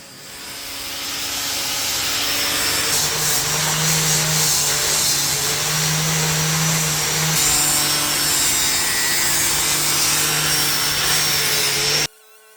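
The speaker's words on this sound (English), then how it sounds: "Here you can see how fast the angle grinder removing the saw markers." A loud, steady whirring grind of an angle grinder sanding walnut to remove saw marks, continuous for several seconds before cutting off abruptly.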